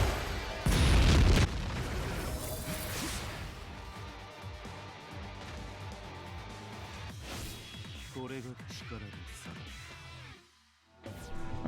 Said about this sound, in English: then use the soul bomb.